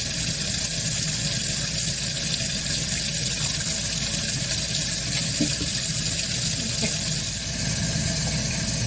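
Hot water gushes steadily from a tap, a loud continuous rushing hiss that fills the whole stretch without pause.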